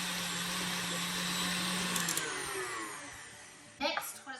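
Stand mixer creaming sugar and butter together for blueberry cake donut batter, a steady loud motor whir with a low hum that fades out, followed by a brief clatter.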